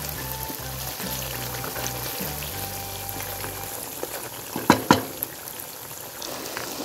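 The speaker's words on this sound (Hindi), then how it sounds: "अब इसको सिंपली फ्राई कर रहे हैं" Marinated chicken chunks fry on a high flame with a steady, close sizzle and a few sharp pops near the end. A low, soft tonal hum sits underneath, and no one speaks.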